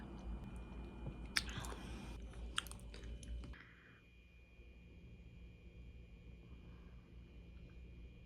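Someone chews soft food from a hospital meal served three days after childbirth, with close, quiet mouth sounds and a few sharper crunchy bites early on, then a faint low hum once the chewing stops.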